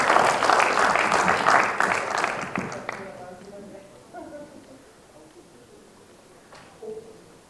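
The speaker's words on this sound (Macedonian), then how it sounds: "Аплауз за прашањето на Мразот." Audience applause at a forum theatre play on education fills the first three seconds as dense, loud clapping, then fades into quieter room noise with scattered voices and a brief clap near the end.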